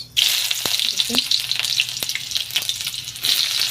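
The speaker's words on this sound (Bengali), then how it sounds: "এখন আমি দিয়ে দিচ্ছি তোমার পেঁয়াজ।" Onions hiss and crackle in hot oil with fried black cumin seeds, a loud continuous sizzle with a few clicks of stirring.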